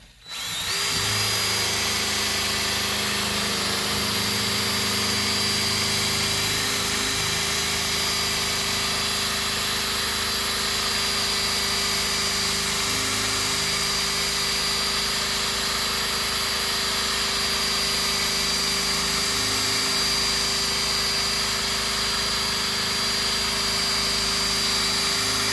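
A Zephyr Pro 25 cordless polisher fitted with a loose buff works aluminum, holding a steady, continuous motor whine at close range for the whole stretch with only slight dips in pitch.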